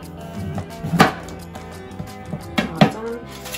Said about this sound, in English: they're just gonna cut the pepper in half